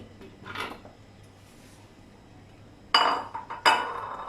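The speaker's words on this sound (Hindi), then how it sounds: "अब सबसे पहले ब्लेंडिंग जग में आम डालेंगे" Mango pieces tumble into a blender jug in a home kitchen, giving two sharp clinking knocks against the jug near the end after a soft earlier rustle, close and fairly quiet with no talk.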